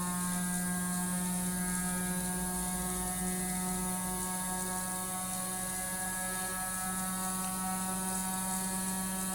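Battery-powered gyroscope spinning up toward roughly 8,000 to 9,000 RPM, a steady loud mechanical whine with layered tonal hum continuing throughout without pause.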